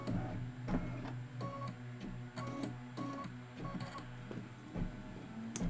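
An embroidery machine stitches a window detail on a quilt block, giving a steady mechanical whir with a rapid ticking, clicking rhythm and occasional brighter clacks, close and continuous with no talking.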